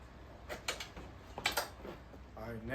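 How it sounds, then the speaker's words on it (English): A Yamaha Jog moped's seat bucket is opened, giving soft plastic creaks, clicks and latch sounds in a quiet space, with a few brief scrapes and thumps close by. "First, we're gonna start with opening the seat bucket."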